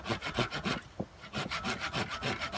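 A handsaw rasps through dry pine wood in steady back-and-forth strokes, close and clear, with a brief pause partway through.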